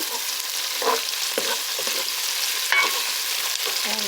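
Food stir fried in a pan hisses in a continuous sizzle, with scattered scraping clicks from stirring breaking through the steady noise and no voices.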